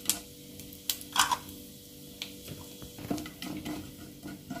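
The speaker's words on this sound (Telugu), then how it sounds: "అదే ప్యాన్లో జీలకర్ర, చెక్క, యాలకులు వేసుకొని ఫ్రై చేసుకోవాలి." Cumin seeds, cinnamon stick and cardamom pods frying in a pan, a soft sizzle under occasional scraping and stirring taps from a spoon, close and fairly quiet, with no voice.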